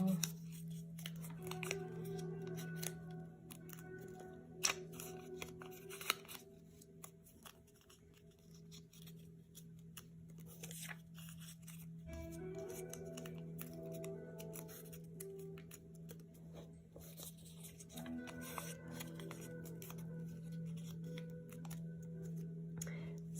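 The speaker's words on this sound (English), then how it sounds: "So after we fold all the papers, I'm going just to put them here for now." Sheets of paper are folded by hand, making soft, repeated crinkles and creases. The rustling sits over a low steady hum, with faint voices in the background.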